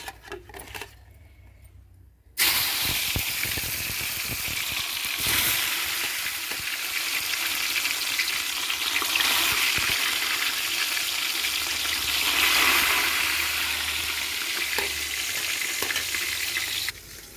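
Bitter gourd fries in hot oil with a loud, steady sizzle and occasional stirring scrapes, beginning after a quieter two-second lead-in and continuing strongly to the end.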